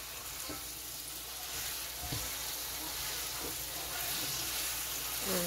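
Shrimp fry in a pot for Jamaican pepper shrimp, with a soft, steady sizzle and intermittent scraping stirs, fairly quiet and continuous.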